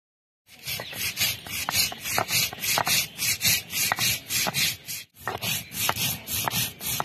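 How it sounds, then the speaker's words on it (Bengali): Whole cumin and radhuni seeds are ground into a paste on a traditional grinding stone, making a steady rhythmic rasping scrape, stroke after stroke, close and fairly loud, with one short pause partway through and no talking. "আস্ত জিরা আর রাঁধুনি, এই দুইটা উপকরণ একসাথে বেটে নিতে হবে।"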